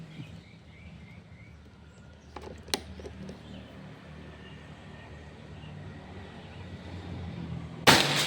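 A sharp shot from a Predator Pajero Gun Gen 6 air rifle, fired in an accuracy test, cracks out against a low outdoor rumble, with a fainter click earlier and faint birdsong in the distance.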